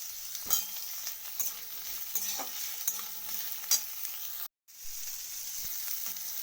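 Chopped tomato frying in a hot pan, a continuous sizzle with regular spatula scrapes and taps, briefly cutting out to near silence for a moment before resuming.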